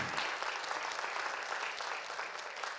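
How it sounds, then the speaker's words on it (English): An audience in a lecture hall applauds a judge after a talk, with dense, steady clapping that carries evenly through the whole stretch. "Another round of applause for this wonderful judge"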